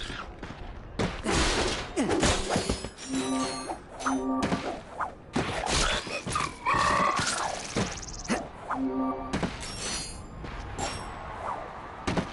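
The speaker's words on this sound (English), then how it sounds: "Look at him smashing crates." Ratchet smashing crates in a Ratchet & Clank game on PS4, repeated thuds, whacks and breaking crashes over busy game music and effects, with voices talking now and then.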